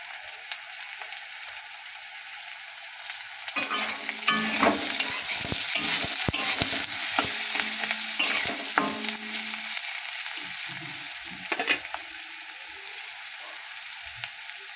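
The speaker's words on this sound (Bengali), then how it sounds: "আমাদের পেঁয়াজটা একটু ভাজতে আর বাকি আছে, একটু লাল লাল করে ভেজে নেব" Onions sizzle and crackle in a hot pan for a Bengali banana-flower and prawn curry, with a spatula scraping and stirring in bursts, close and alone.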